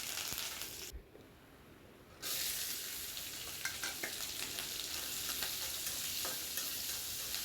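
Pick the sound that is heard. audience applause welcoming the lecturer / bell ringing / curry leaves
curry leaves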